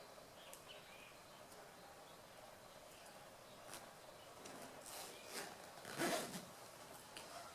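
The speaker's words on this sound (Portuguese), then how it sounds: "Vou colocar o zíper bem alinhadinho aqui, como estava. E vou colocar um cursor desse lado." A zipper is being lined up and fitted with a slider on a handmade cosmetic case, giving soft intermittent rubbing and zipping scrapes that build to a louder close pass near the end, with no talk.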